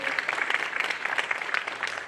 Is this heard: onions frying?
no